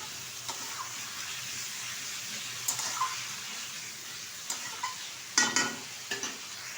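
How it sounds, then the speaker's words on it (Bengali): Spices, potato and tomato sautéing in a pan for a Bengali katla fish curry with yam, a steady close sizzle with occasional stirring scrapes and clinks. "আবারও বেশ কিছুক্ষণ কষিয়ে নেব।"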